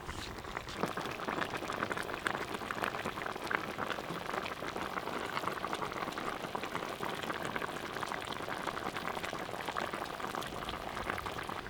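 Dolma of stuffed peppers and tomatoes simmering in a pot gives a steady, close bubbling and sizzling boil that continues evenly throughout with no talking.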